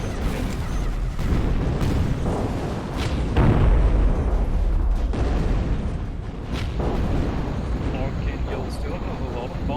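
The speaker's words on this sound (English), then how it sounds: "Archangel is gonna bomb the factory and just barely doesn't hit it." Bombs from an Archangel aircraft exploding around a factory in the strategy game Zero-K, a series of deep booms and rumbling blasts that overlap in a dense, loud barrage with several stronger hits.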